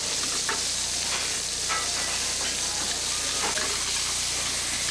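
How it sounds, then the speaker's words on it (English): Fresh peeled shrimp seasoned with salt and pepper sizzling in hot oil in a skillet in a busy restaurant kitchen, a constant loud frying hiss with occasional crackles and pops. "Heat the oil in a skillet and add the shrimp."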